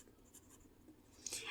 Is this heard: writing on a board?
yes